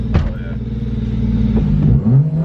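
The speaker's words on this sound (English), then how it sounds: "Revs like it should." A car engine, freshly swapped and running very rich, idles and rumbles, then climbs in pitch as it revs near the end, with a brief clatter early on.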